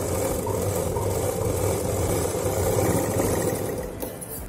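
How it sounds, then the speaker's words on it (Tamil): A sewing machine stitches the bottom of a small cloth shoulder bag, giving a steady, continuous motor whir with a fast stitching rhythm, close and even throughout. "இப்போ அடிபாகத்தை சேர்த்து வச்சு இங்கேருந்து இங்கே வரைக்கும் ஒரு தையல் போட்டுடலாம்."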